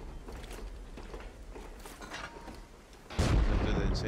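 Rocket explosions in a base raid within a video game, a rumbling background followed by a sudden loud booming blast near the end, with people talking over it.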